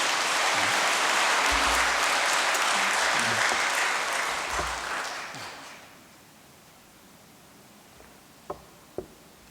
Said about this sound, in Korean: 이 두 회사의 우리 임직원들을 위해서 박수 한번 보내주시기 바랍니다.